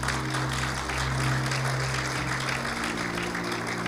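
A church congregation claps loudly together in praise, a thick, continuous wall of applause with a low hum underneath and no break.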